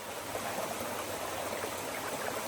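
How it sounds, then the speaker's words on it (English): A small stream on the Appalachian Trail runs with a steady, soft rushing and trickling, constant and fairly faint, with no voices. "Lots of running water."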